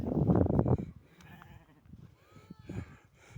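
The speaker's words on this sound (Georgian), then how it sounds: "ერთი პატკანი ორი პატკანი პატარები" Sheep and lambs bleat on a farm in a string of short, wavering calls at close to moderate distance, following a burst of louder low rustling and movement at the start.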